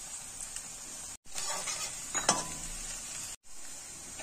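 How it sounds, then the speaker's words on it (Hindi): Spices being stirred into a potato and spinach curry in a pan, a steady close sizzle with light scraping, broken by two brief silent gaps. "इसे भी अच्छी तरह से कर देंगे मिक्स सभी मसालों में"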